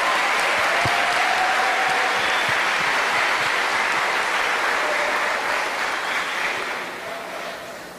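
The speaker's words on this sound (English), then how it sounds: "Can we get a round of applause for them?" A debate audience breaks into long, dense applause for the debaters, steady crowd clapping that holds strong before gradually fading toward the end.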